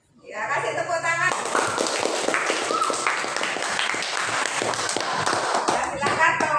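Schoolchildren in a classroom clap together for a group that has just presented, a dense burst of hand claps that starts sharply after a brief opening and stays steady and close for several seconds.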